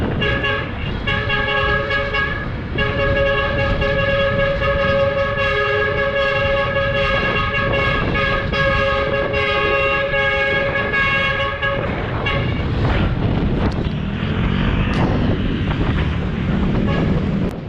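A loud, sustained truck horn blares in long steady tones over heavy wind and road rumble, then cuts off into continued roaring wind.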